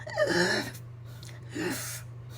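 A voice imitates the whooping inhale of pertussis in a baby: two sharp gasping intakes of breath, the first longer and strained, the second shorter after a pause, over a steady low hum.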